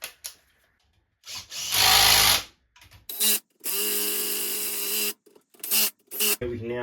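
A power tool runs down bolts on a Sea-Doo 787 engine case in several close, loud whirring bursts of varying length, separated by short pauses and clicks, with a voice talking between them.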